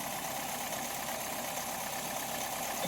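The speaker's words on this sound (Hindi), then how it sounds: "इंजन है, इंजन नॉकिंग कर रहा है।" A Hyundai Creta engine with an injector circuit fault and reported knocking idles with a steady, dense mechanical drone, heard close and continuous with no speech.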